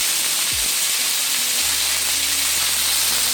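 Chicken pieces for a stir fry sizzle steadily in a hot pan, a continuous close hiss and crackle with a brief low clunk early on and a low hum underneath.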